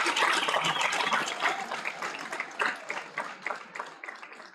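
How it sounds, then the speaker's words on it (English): A graduation ceremony audience gives a round of applause, a dense patter of many hands that starts full and gradually thins and fades out. "give them a round of applause to show your gratitude for the support that you have received from them"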